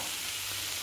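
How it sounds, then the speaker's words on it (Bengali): Food fries in a pan with a continuous, even hiss, close and fairly quiet, with no voices. "একটু ভাজা ভাজা হোক"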